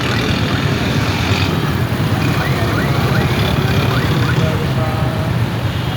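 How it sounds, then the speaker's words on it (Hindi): Heavy road traffic in Bahawalpur near Farid Gate makes a dense, constant roar of engines, with passing vehicles and faint horn-like tones over the din, as people talk nearby. "ट्रैफिक बड़ी है।"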